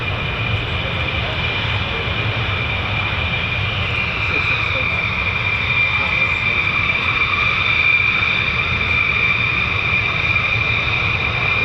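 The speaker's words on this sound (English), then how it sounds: "more hot taxiing by the look of it" F-15 or F-35 fighter jets hot taxi at RAF Lakenheath, producing a steady, loud roaring whine with a sustained high tone that holds level throughout.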